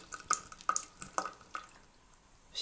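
A water tap drips in a sink with no cold water running, giving a series of about five sharp, bright drops spaced irregularly over a couple of seconds against a quiet room background.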